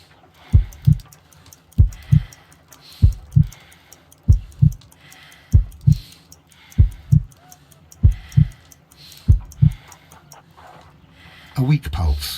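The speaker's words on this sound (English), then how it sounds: "I need to concentrate and count the heartbeats." Slow heartbeat in the Sherlock Holmes: Crimes and Punishments video game, a weak pulse of about 50 beats per minute: paired low thumps repeating evenly around ten times, loud and close, followed by a brief burst of noise at the end.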